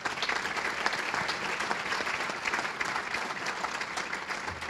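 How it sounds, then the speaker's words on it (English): Audience at a university department centennial celebration applauding faculty and staff, a dense, steady wash of many hands clapping that holds evenly throughout with no speech over it. "Let's give them a round of applause."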